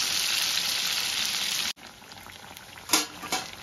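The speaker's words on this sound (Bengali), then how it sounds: "এই পিঠটা আমি এরকম লাল করে ভেজে নেব, ঠিক এমনই লাল করে ভেজে নিতে হবে।" Rohu fish steadily frying in hot oil until browned red, with a dense, bright sizzle for over a second before an abrupt cut, then quieter crackling and a couple of sharper spits.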